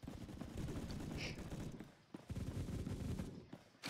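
Rapid automatic fire from an STG-44 rifle in the video game Phantom Forces, a dense stream of shots with a short break midway before firing resumes, with a voice faintly underneath.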